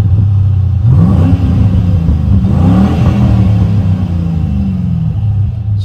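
A third-generation V6 S197 Ford Mustang fitted with a Pypes Violator axle-back exhaust revs up from idle, a deep throaty rumble climbing and falling in pitch close by, moderately loud with no talking.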